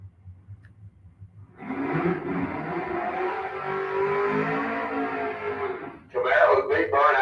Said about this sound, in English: Camaro with a big burnout here on the right-hand side of the Budweiser lane